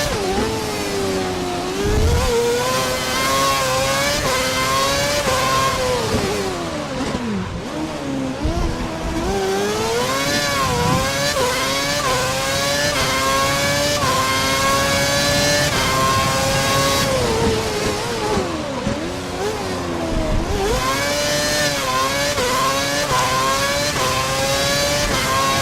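Ferrari Formula 1 engine in F1 2011 at Singapore in heavy rain, a loud continuous high-pitched whine rising and falling through upshifts and downshifts, close and with no talk.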